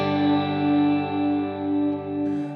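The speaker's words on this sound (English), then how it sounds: "Refract does add some like glitchy things." A Walrus Audio R1 reverb pedal on its Refract setting lets a held guitar chord ring out in a thick, shimmering wash with gentle pulsing swells, then brief glitchy flutters near the end; no talking.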